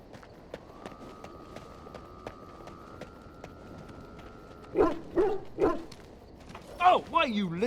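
Several loud dog barks from a companion dog in the video game Dragon Age Origins, set at a camp, arrive in a quick burst after a sustained tone, followed by a few more yips and barks near the end.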